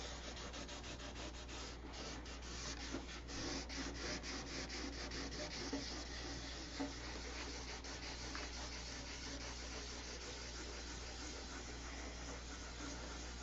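Steady, continuous rasping of sandpaper rubbed back and forth by hand on an airplane, close up and even in loudness throughout.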